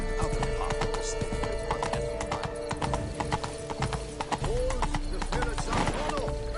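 A horse gallops in The Witcher 3, its hooves beating a fast, loud, steady clip-clop with a neigh partway through, while a voice talks over the hoofbeats and game music.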